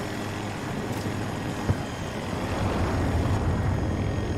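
A helicopter in Battlefield 2042 gives a continuous broadband rotor and engine roar that swells slightly toward the end, with a couple of faint thuds.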